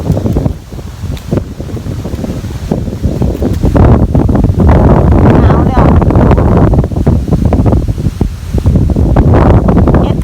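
Dry wind gusting steadily across an open outdoor microphone during a rainy porcini mushroom foraging outing, a loud continuous rushing buffet that swells and stays strong throughout, with no clear talk.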